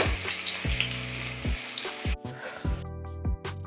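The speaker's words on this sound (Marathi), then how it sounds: "आता बघा कांदा आपला ब्राऊन झालेला आहे" Onion browning in hot oil in a kadhai, a strong continuous sizzle broken by regular dull knocks of stirring and brief dips where the frying sound drops away.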